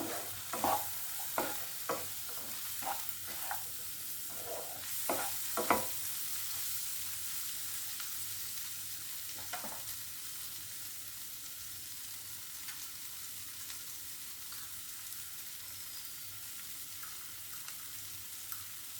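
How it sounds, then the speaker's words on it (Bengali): Turmeric powder being stirred into a frying egg do pyaza masala in a pan, a run of scraping stirs in the first six seconds, one more near ten seconds, then a soft steady sizzle with no talking. "হলুদ গুঁড়ো দিয়ে ভালো করে একটু নাড়িয়ে নেব"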